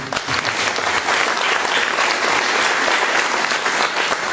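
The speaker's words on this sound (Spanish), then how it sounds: "un aplauso por ese libro" Audience applause at a book launch for a newly printed book, a dense, steady burst of clapping that holds at full strength for about four seconds with no voices over it.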